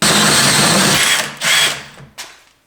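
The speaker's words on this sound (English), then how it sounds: "Totally just going to cut this piece of pipe to make some brackets for the seat." A power tool cuts through a piece of pipe for seat brackets on a 2500 hp Coyote engine build, a loud harsh grinding whine for over a second that cuts off, then two short bursts before trailing into quiet.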